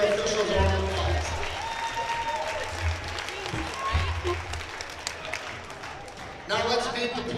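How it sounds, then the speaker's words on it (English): Audience applauding the officials at a high school volleyball playoff match in a gym, clapping spread across the stands with crowd noise and a low-pitched voice talking over it, swelling again near the end. "Let's give our officials our applause."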